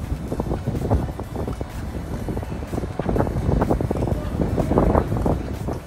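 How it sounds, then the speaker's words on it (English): Strong gusting wind at Ocean Cay beside an MSC Seashore cruise ship, roaring in heavy, buffeting waves against the microphone throughout with no voices. "It is super windy here."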